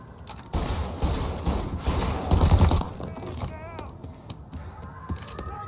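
Tommy gun fire in Mafia Definitive Edition, a few short rattling bursts over a couple of seconds mixed with mechanical clatter, with game dialogue voices heard around the shots.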